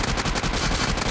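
Rapid automatic fire from a UMP45 submachine gun in the mobile shooter BGMI, a dense, loud stream of close-range shots with no pauses over about a second.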